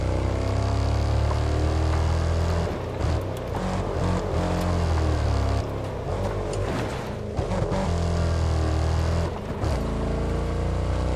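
A game vehicle, something like a jeep, rumbling cross-country off road with a steady low engine drone and rattling bumps over rough ground, loud and constant throughout.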